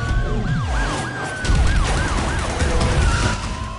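Police car siren in the racing game Need for Speed Undercover wails in rapid repeating sweeps over a rumbling car engine, loud and close throughout.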